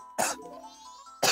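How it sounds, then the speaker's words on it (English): A person gives two sharp, loud coughs, one near the start and one at the end, with a faint lull between them. "That is extended coughing."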